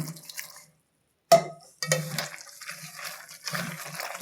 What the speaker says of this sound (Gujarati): જોઈએ એમ જ પાણી નાખશું